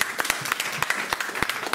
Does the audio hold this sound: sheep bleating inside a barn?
no